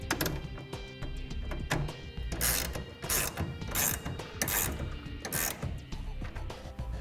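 A ratchet tightens a clamp for a BAK Revolver X2 hard tonneau cover on a 2017 Chevrolet pickup bed, giving repeated rhythmic clicking bursts up close, about half a dozen strokes with brief pauses between.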